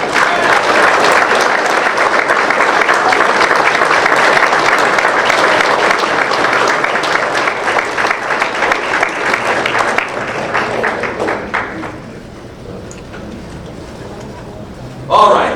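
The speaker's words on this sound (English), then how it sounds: "Everybody, congrats, big round of applause." Loud, sustained applause from a crowd at a sports Hall of Fame induction ceremony rolls on for about ten seconds, then thins and fades out, with voices mixed in.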